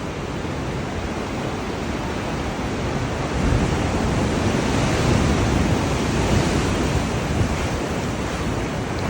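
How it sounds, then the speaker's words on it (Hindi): Ocean waves crash on the rocks at Diamond Bay in Sydney, a loud, continuous roar of surf with wind buffeting the microphone and a slight swell in intensity midway. "लहरें कितनी तेज़ी से उठ रही हैं।"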